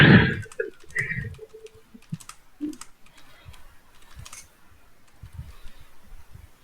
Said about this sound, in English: love how we can hear him typing fluently